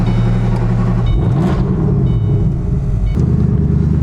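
A Shelby Code Red twin-turbocharged prototype with over 1,000 horsepower idles and revs on a street test, a loud close engine rumble with rising and falling pitch sweeps as it is blipped.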